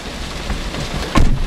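Heavy rain pours down in a steady, dense hiss that swells into a louder burst near the end, with no voices.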